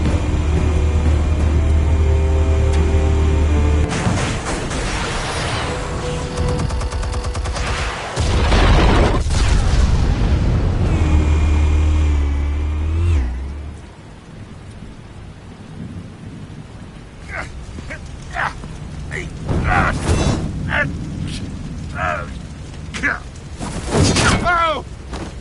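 Heavy booming explosions in Batman: The Telltale Series, loud rumbling blasts in the first half that fade, followed by quieter scattered impacts and bursts, with voices heard in between.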